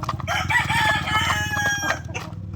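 Asil roosters crowing in a muddy yard after overnight rain, several overlapping loud calls with clucking from other fowl close by, continuous for a couple of seconds before trailing off.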